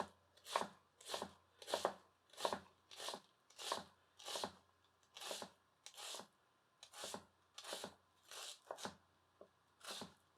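A Daovua full-tang kiritsuke knife chops through food in a cut test, about a dozen evenly spaced, rhythmic strokes, each a crisp slicing rasp ending on the board, fairly quiet with no speech.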